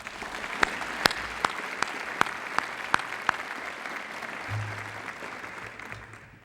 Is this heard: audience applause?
yes